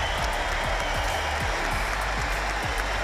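A British crowd applauds at a track cycling race in London, a dense, steady wash of clapping with nearby individual claps standing out throughout.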